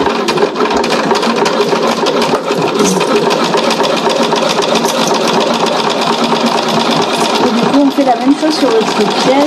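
A sewing machine stitches piping onto the outer pocket of an Ebben fabric pouch, running in a steady, continuous mechanical whir at close range for the whole stretch.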